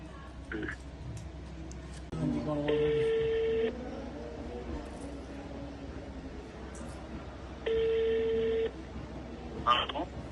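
A phone call rings out with two long ringback tones, each about a second and spaced several seconds apart, plus a few short beeps, while a person talks quietly in the background.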